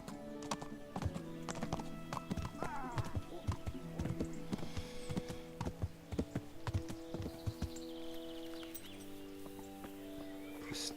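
A horse in the medieval game Kingdom Come: Deliverance trots along with a brisk, steady clip-clop of hooves, close and clear, while music plays softly underneath.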